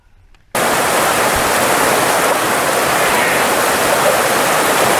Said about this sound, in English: I'm taking a nice little waterfall scene with the fishermen in the background